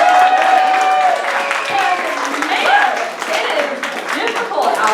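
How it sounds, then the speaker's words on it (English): A stand-up comedy audience claps and cheers at moderate volume, with voices calling out over the applause throughout. "can we give a round of applause for everybody that's single?"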